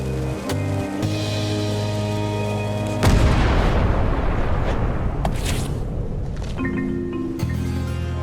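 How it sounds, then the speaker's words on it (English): A ship's cannon firing in Return to Monkey Island, one loud deep boom followed by a long rumbling, crackling decay over sustained background music that drops out and returns. "Ready for cannon firing."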